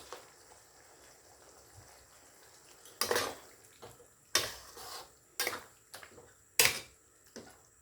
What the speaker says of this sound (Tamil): இப்போ நான் வேக வச்ச மட்டனை இதில் சேர்க்குறேன்.